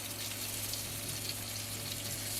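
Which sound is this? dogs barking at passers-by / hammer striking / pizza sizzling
pizza sizzling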